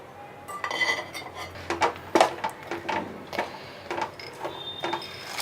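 Mixed nuts, including peanuts, tumble onto a ghee-greased metal platter for chikki, a run of bright clinks and rattling clatters in uneven bursts, close and crisp.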